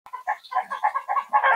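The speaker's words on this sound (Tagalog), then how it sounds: "ang ingay ng manok natin" Chickens cluck and squawk in a quick series of close, loud calls, one after another.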